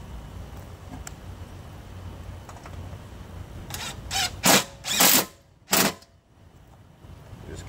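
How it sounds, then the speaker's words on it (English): Bolt being started and tightened on a Troy-Bilt Pony riding lawnmower: quiet background at first, then a cluster of sharp ratcheting bursts, several close clicking turns in quick succession followed by a pause and one last burst. "And I'm just going to get the bolt started."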